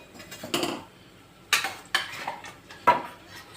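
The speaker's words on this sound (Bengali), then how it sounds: "এবার আমি কাঁচা মাংসটা দিয়ে দেবো" Raw mutton going into a pan with whole spices for Bengali mutton kosha, heard as a few sharp metallic clanks and scrapes of a utensil against the pan at uneven intervals, close by, with only a faint sizzle between them.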